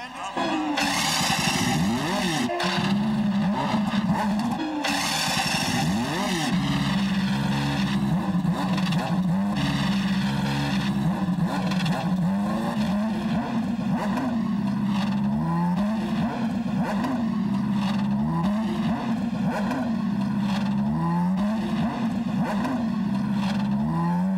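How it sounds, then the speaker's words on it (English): Indy race car engines at the 1994 CART Toyota Grand Prix of Long Beach fire up and rev hard, a loud continuous roar with rising and falling revs and several cars overlapping, a voice speaking over the start. "Gentlemen, start your engines."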